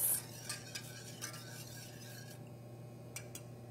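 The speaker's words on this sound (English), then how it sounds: "So we're going to mix the sugar in and let it warm until the sugar is completely dissolved." Spoon stirring sugar into warming milk custard in a pot, a soft, continuous scraping rasp with light periodic clinks over a low steady hum.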